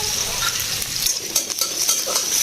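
Onion and green chili fry in a pan while being stirred, a close, steady sizzle with scraping and stirring strokes layered over the hiss, brief and fairly loud, with no voices.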